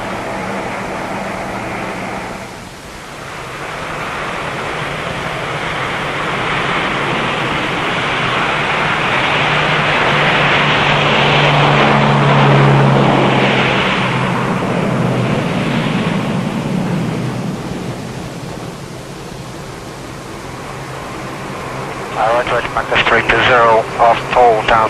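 A large aircraft climbs after takeoff from the South Pole toward McMurdo, Antarctica, its broad engine roar swelling and easing over about 25 seconds, with crew radio talk heard in the cabin at times.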